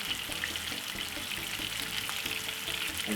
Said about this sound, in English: Let them fry.